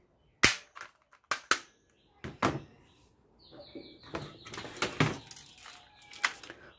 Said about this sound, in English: Wow, heavy, powerful gun.